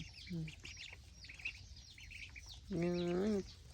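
Ducklings peep and squeak nearby, a short call early then a louder, drawn-out chirping cry, over faint background chatter.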